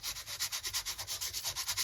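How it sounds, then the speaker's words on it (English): Quick, steady back-and-forth sanding strokes rasp against the top of an antique book cover, close and even in rhythm. "do a little bit of sanding on that top bit to sort of scuff it up a little bit"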